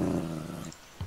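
A dog in a Minecraft game growls low and rough for most of a second, close and moderately loud, then a short soft grunt follows after a brief pause, with no talking over it.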